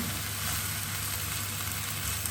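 Steady frying sizzle from a pan of half-wilted spinach as tinned salmon goes in, a dense continuous hiss, close and even throughout without talk.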